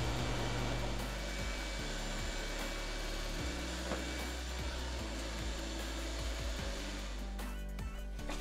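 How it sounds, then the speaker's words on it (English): A vacuum cleaner sucks up fine wood sanding dust in a loud, steady whine, with scraping and bumping noises from the nozzle against the wood throughout. "normally I would not recommend using a vacuum like this, but the fine dust is just terrible for my equipment"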